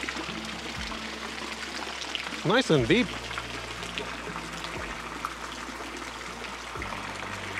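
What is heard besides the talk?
water running from an outdoor pool shower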